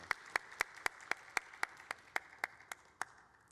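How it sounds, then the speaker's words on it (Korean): A church congregation clapping in praise, heard as a regular, evenly spaced series of single sharp claps in a steady rhythm, quite faint and distant. "함께 하나님께 영광의 박수 올려드리겠습니다"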